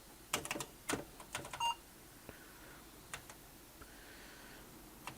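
A quick cluster of clacking keystrokes on a malfunctioning Apple II clone keyboard, followed by a few sparse clicks and faint electronic beeps in a quiet room.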